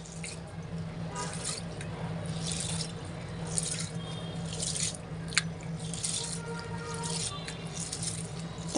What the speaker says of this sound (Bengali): প্রথমে চালটাকে আমি একটু ধুয়ে নেব সুন্দর করে, একদম হালকা হাতে ধুয়ে নেব।